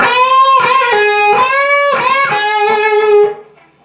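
An electric guitar plays a riff, loud and alone, as a few clipped, rhythmic chord stabs with short gaps that ring out and fade at the end.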